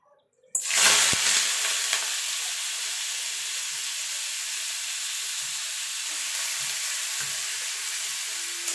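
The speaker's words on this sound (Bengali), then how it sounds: "দেখুন বন্ধু, তেলটা গরম হয়ে গেছে, এবার শাবলাটা দিয়ে দেবো।" Water lily stems hitting hot mustard oil set off a sudden loud sizzle after a brief quiet start, then a steady, fairly loud frying hiss that holds on with a few soft stirring knocks.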